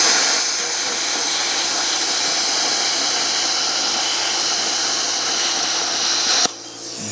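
A Best Arc plasma cutter running at 45 amps on 240 volts slices through metal with a loud, steady broadband hiss and roar. The sound holds evenly for about six seconds, then cuts off abruptly, leaving a quieter background.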